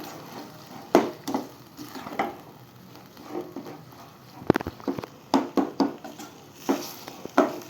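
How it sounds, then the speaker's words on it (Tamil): Mashed brinjal (eggplant) sabji being stirred in a pan, giving intermittent close scrapes and soft clatter from the spoon against the pan, with quieter gaps between strokes and no talking. "நம்ம மசித்து அந்த கத்திரிக்காவை போட்டுக்கலாம் நல்லா மிக்ஸ் பண்ணுங்க"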